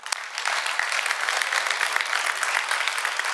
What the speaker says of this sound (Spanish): Si aprendiste algo, dan un aplauso, Señor.